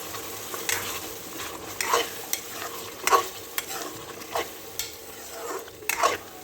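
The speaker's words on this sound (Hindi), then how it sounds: "कि आलू भुन रहे हैं।" Potatoes frying in masala in a pan: steady sizzle, with a utensil scraping and stirring in irregular strokes, close, no talk.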